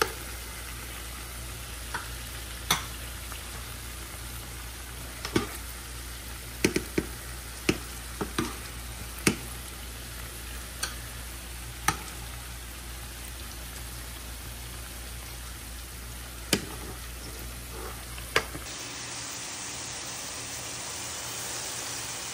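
Spice masala frying in a pan in a home kitchen, a steady soft sizzle with scattered sharp clicks and taps from stirring, going quiet near the end.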